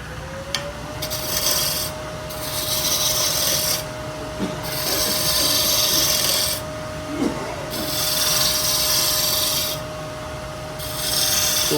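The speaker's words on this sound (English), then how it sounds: "now the spindle roughing gouge does a nice job finishing that up" A spindle roughing gouge cuts wood on a lathe while a Christmas tree is turned, giving a steady loud rasping, rubbing hiss in long passes broken by short pauses, with the motor's hum underneath and no voices.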